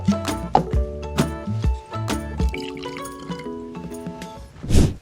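Homemade root beer made with dry ice being poured, liquid splashing and gurgling into a cup in uneven spurts over background music, ending in a louder fizzy splash.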